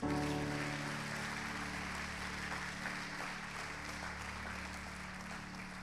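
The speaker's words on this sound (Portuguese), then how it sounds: "Aplauda a palavra do Senhor" Church congregation applauding, a dense, steady wash of many hands clapping that gradually softens, with a low sustained hum underneath.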